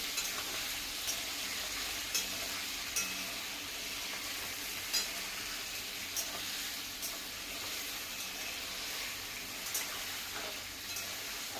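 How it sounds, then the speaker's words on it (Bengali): Chicken masala sizzles steadily in a hot pan, with a constant frying hiss and periodic scrapes and taps as it is stirred, heard up close and on its own. "ভালোভাবে ফ্রাই করতে হবে"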